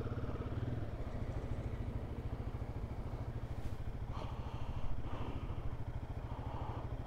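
A Royal Enfield Guerrilla 450 motorcycle engine runs steadily and loud up close with a dense, even throb, rising slightly in the last couple of seconds after its first service, with no talk over it.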